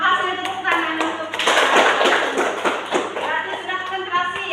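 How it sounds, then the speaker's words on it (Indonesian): A class of schoolchildren breaks into a burst of scattered, overlapping applause lasting a couple of seconds, loud and close, with voices speaking before and after it. "Terima kasih tepuk tangan"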